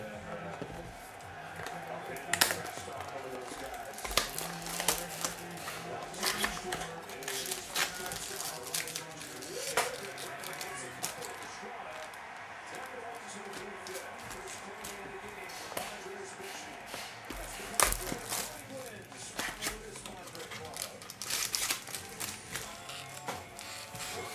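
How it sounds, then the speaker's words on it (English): Boxes of 2024 Bowman Sterling baseball cards being torn open, with repeated crinkly rips, cardboard rustles and pack shuffling, close and busy with short bursts throughout. "Rip open all the boxes."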